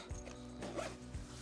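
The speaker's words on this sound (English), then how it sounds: "Zip it." A zipper drawn shut along the soft case of a Journey Instruments foldable travel guitar, one continuous close, quiet zip lasting about a second and a half with no talking over it.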